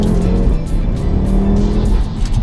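A 441 bhp Audi RS3 hot hatch engine rumbles loud and close, a deep, rough exhaust tone pulsing steadily with small surges in pitch, no voices present.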